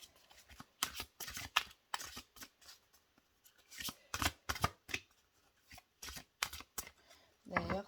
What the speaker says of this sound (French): Et on va tirer une carte des chakras de l'oracle S'autoriser à être soi pour compléter un peu ce tirage.